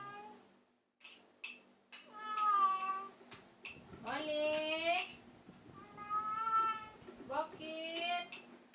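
A cat meows repeatedly in a home, several drawn-out, plaintive cries close by, with a person calling out briefly between them.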